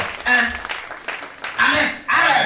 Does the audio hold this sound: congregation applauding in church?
yes